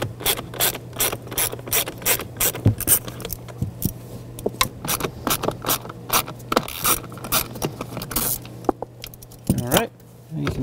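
A ratchet clicks in quick bursts while backing out screws threaded into plastic that hold the blower motor of a 2012-2017 Toyota Camry, with metallic scrapes, tool handling and a steady low hum between the bursts.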